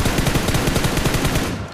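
Rapid automatic gunfire in the mobile battle royale game BGMI, a dense, loud burst of repeated shots firing in quick rhythm for nearly two seconds without talk.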